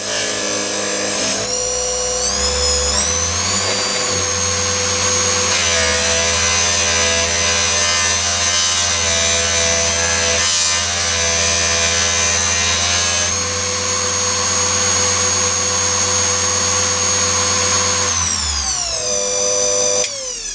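A bench vice-mounted buffing and polishing machine with a 180 grit wheel deburrs and cleans up metal, running as a loud, continuous motor whine with grinding contact noise. Its pitch rises and falls as it spins up and slows down.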